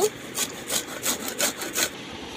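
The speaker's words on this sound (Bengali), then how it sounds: "আর আমি এই লেবুটার এই ওপরের যে খোলার অংশটা আমি অল্প করে ঘষে নেব।" A yellowed gondhoraj lemon's outer peel is rubbed against a grater in short strokes, about six rhythmic rasping scrapes at a steady pace, close and clear with no talking.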